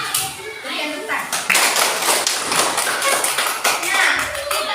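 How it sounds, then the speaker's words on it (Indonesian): Classroom of children clapping together after a correct answer, a dense burst of hand claps with children's voices mixed in, fairly loud and close throughout. "Berikan tepuk tangan."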